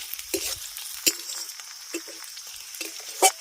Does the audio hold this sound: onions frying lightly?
yes